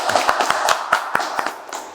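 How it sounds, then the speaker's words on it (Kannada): Hand clapping: a short burst of sharp, uneven claps from a few pairs of hands, fairly close and loud, with no talking over it. "ಚಪ್ಪಾಳೆ."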